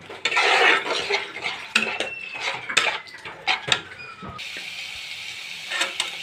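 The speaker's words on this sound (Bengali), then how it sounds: "দিয়ে আমি সবগুলোকে ভালো করে একসঙ্গে এবার মিশিয়ে নিয়ে নাড়াচাড়া করতে থাকবো।" Coriander leaf pickle is mixed and stirred in a pan, giving loud close metallic scraping, clanks and clicks in a busy irregular rhythm that eases to softer scrapes near the end, with no voices.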